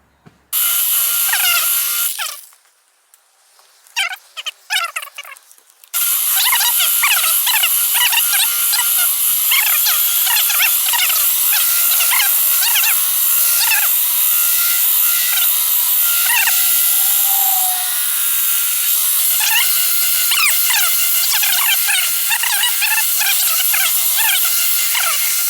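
A polishing machine buffing car paint, a loud continuous high whine close by that cuts out briefly near the start, then runs steadily with slight rhythmic wobble as it moves across the panel, no talking.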